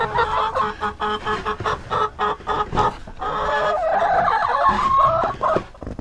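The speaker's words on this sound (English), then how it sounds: "I have 10 chickens and 11 eggs" Chickens cluck in short rhythmic bursts nearby, followed by a longer, rising crow-like call from one bird.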